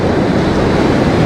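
Rushing, roaring water as an inflatable fishing raft drops straight down a river rapid, loud and continuous broadband wash with no talking.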